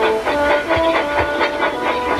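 A Tomy toy train engine, Edward, hauls a heavy freight load downhill, with a steady rhythmic clickety-clack of wheels and a faint whirring motor, fairly loud and close throughout, no talking.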